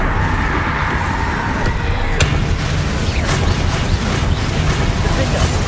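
Bombarda explosion spell going off amid a chaotic Hogwarts Legacy wizard duel, with dense booming and crackling blasts layered over a continuous rumble of combat noise and other spell effects.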